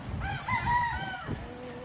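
A rooster crows once, a long rising and falling call over a low background rumble, close and fairly loud, near a seashore.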